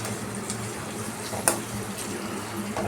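Capsicum tossed into a pan with cooking tomatoes for pav bhaji, giving a low steady sizzle and faint stirring scrapes, with one sharp utensil tap partway through.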